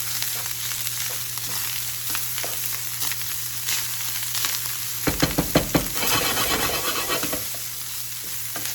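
Rice stirred into sizzling chorizo in a pan: a constant frying hiss with a burst of quick, rhythmic scraping strokes midway, loud and close, with no voices.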